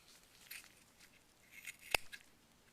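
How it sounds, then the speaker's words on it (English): An eyeball cut in half during a dissection: faint, close snips and soft crunchy slicing, ending in one sharp cutting click, quiet throughout. "we're going to split the eyeball in half at this point"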